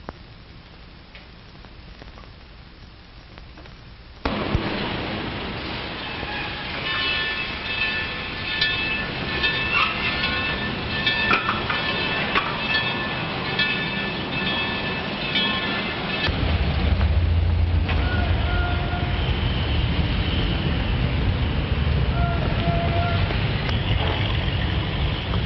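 A train running on rails, with a steady rolling rumble and rhythmic clatter of wheels that grows louder and heavier partway through, continuing without any voices.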